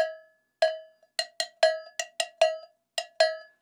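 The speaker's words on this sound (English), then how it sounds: "That's a nice cowbell sound." Handheld cowbell struck about a dozen times in an irregular rhythm, alternating clipped, muted high hits with ringing open lower tones, close and clear with no talk.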